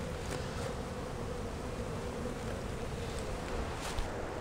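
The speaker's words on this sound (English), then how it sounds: "So all those bees are wanting to get in their hive." A dense swarm of honey bees hums steadily around a Ceracell beehive with an open entrance, a close, continuous buzzing drone mixed with light wind noise and no speech.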